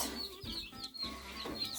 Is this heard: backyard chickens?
yes